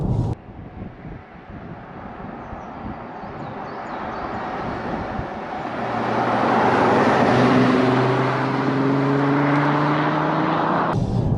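A Porsche Cayenne, a heavy SUV of over two metric tons, accelerates hard along a bumpy back road, its engine note climbing steadily and swelling louder before an upshift, with a droning road and wind roar underneath.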